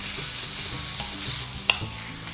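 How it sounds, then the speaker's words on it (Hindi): Tomatoes frying in a pan for a restaurant-style mixed vegetable dish, giving a steady close sizzle with one sharp utensil knock near the end and no talking. "टमाटर डालेंगे और इसे और थोड़ी देर फ्राई करेंगे जब तक टमाटर गल जाए"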